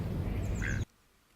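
A single loud duck quack rings out as a show's opening cue, then cuts off abruptly into near silence.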